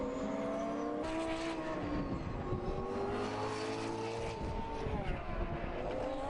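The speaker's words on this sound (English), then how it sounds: "The Lamborghini heading down towards us at turn 8, and Meyer-Melnhof's next target, Gilles Van" A Lamborghini GT race car heading down toward turn 8 at Navarra during a 2011 Blancpain Endurance Series round, its loud engine note swelling and shifting pitch as it approaches, heard alone without talk.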